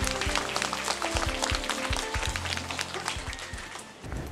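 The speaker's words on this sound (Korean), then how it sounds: "큰 박수로 맞아주시기 바랍니다." Audience applause welcoming a psychology lecturer to the podium at a public citizens' lecture, a dense wash of many hands clapping steadily throughout, fairly loud and filling the hall with no talk over it.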